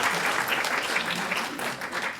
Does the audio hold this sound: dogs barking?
no